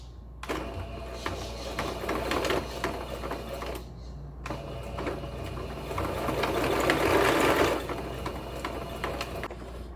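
A sewing machine stitches fabric for an Easter bunny pouch in two steady mechanical runs with a short pause between them, close and moderately loud with no talking.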